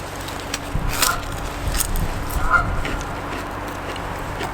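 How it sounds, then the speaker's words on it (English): A duck honks loudly nearby in an indoor setting, a few short nasal calls spread over several seconds against a low steady background hum. "Quiet down, duck."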